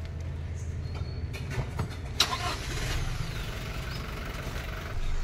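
A car engine starts and settles into a low idle rumble close by, with brief clunks and rustles early on and faint voices in the background.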